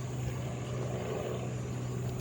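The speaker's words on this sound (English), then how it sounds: "these helicopters, they're gonna be the death of me." Helicopters flying overhead give a steady, low droning rumble with a constant hum, fairly faint and unbroken, heard alone without talk.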